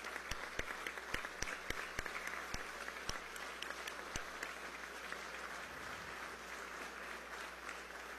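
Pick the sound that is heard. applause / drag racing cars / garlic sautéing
applause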